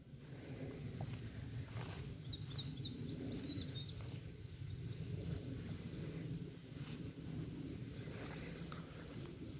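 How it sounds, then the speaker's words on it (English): Birds chirp faintly in the distance outdoors in a leafy natural setting. A short run of quick tweets rises over a steady low background rustle. "You can hear the leaves, you can hear the birds"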